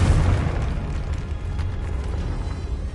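The Confringo fire spell in Hogwarts Legacy sets off a loud, deep booming explosion, followed by a sustained rumbling roar that slowly thins out over a few seconds.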